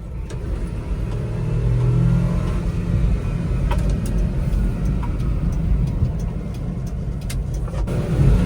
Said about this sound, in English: Gotta love a non-full-time 4-wheel drive K vehicle. Gets up and goes.